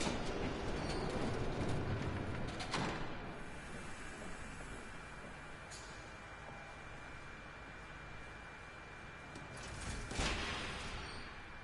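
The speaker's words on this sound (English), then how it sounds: "There's a train coming." A train rolls past in the Batman: The Telltale Series video game, a steady rumbling clatter of wheels on rails that holds throughout, with brief louder swells near the start and again toward the end.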